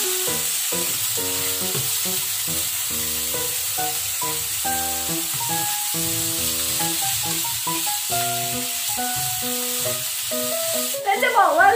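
Large chunks of beef stir-frying in a pan for a cheesy gochujang udon dish, giving a steady, close sizzle that runs throughout over a melodic tonal background, with a brief louder burst near the end.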